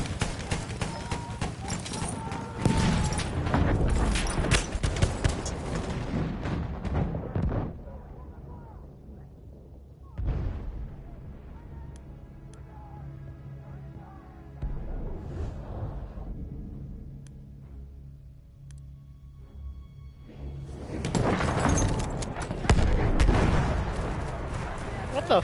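Grenade blasts and gunfire in a first-person shooter with a Martini-Henry sniper rifle, loud booming bursts at the start and end with a quieter stretch between, plus scattered shots and a voice talking over it.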